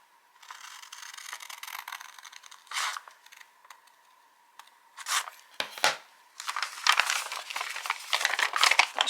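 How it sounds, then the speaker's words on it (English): Scissors snip through folded coloured paper for a handmade book, with a run of crisp close cuts and crinkling paper handling, quiet and in short bursts with brief pauses between. "we're going to cut from the folded edge to the middle"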